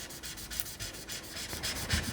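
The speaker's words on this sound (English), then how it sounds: "just rub that vinyl onto the transfer tape." Brayer rubbed over vinyl and transfer tape while making a Valentine's Day heart sign, giving a steady, close scraping rub in repeated strokes with no talking.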